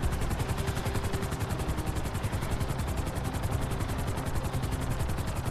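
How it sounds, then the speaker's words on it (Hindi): Helicopter rotor chop from GTA 5 beats in a steady, fast rhythm at moderate level, continuous and unbroken, with a faint engine drone underneath and no talking. "तो भाई हेलीकॉप्टर ये इतना तेज क्यों नहीं उड़ रहा है, हैं?"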